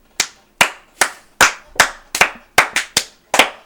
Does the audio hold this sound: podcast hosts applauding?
yes